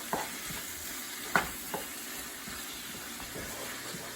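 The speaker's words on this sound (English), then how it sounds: "just to brown the meat and caramelize those onions" Ground meat and onions browning in a pan, a quiet low sizzle with occasional scrapes and clicks from stirring, one sharper knock near the middle, heard close and alone without any voices.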